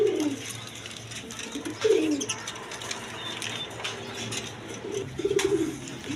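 A pair of pigeons, a pink-beaked breed, gives a few soft low coos in separate short bursts against steady background hum, with mechanical clicking nearby.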